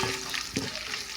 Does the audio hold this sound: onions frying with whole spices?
yes